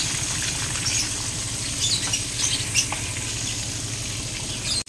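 Milkfish (bangus) frying in a pan after being flipped: a steady, close, loud sizzle runs throughout with small crackles and pops, and no one talks.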